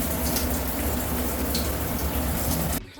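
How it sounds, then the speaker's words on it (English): Steady shower water runs in a dense, continuous hiss and splatter that fills the space and cuts off abruptly at the end. "So right now I'm gonna take a shower."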